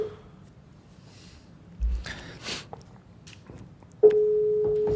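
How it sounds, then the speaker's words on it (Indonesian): A phone call is placed: a brief tone at the start, scattered clicks and handling noise, then a loud, steady ringback tone holding to the end. "Orang pertama coba ditelepon."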